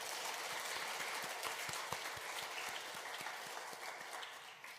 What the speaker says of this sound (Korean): 우리 하나님께 영광의 박수를 내드리겠습니다.